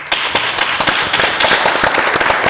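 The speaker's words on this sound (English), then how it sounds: "And a big applaud for the presenters." An audience at a conference applauds the presenters, a dense burst of many hands clapping together, steady and fairly loud throughout.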